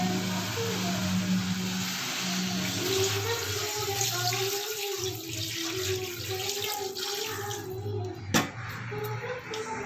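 Water is poured from a cup into a pot of chicken biryani, a continuous rushing pour heard close up over a steady low kitchen hum, with a brief knock near the end.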